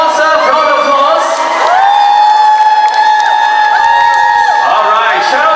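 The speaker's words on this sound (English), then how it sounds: "Can we give the sponsor a round of applause?" A crowd at a Z-UK Malaysia promo tour event cheers loudly and steadily, with high shrill whoops and screams rising above a continuous wash of clapping and shouting.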